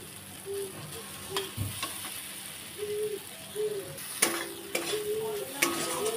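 Food being sautéed in a pan for a pointed gourd and chhana dish, with intermittent spatula scrapes and clinks over a soft sizzle, close up and without speech.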